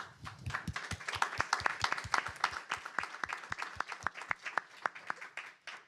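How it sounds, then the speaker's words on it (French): Audience applause at the close of a panel discussion: a brisk run of individual hand claps, fairly sparse and uneven, heard from a moderate distance and gradually thinning out toward the end. "On peut les applaudir."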